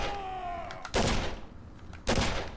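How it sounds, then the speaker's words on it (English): Machine gun fire in Condemned Criminal Origins comes as two loud, sharp bursts about a second apart, over a low background hum. "That guy has a machine gun."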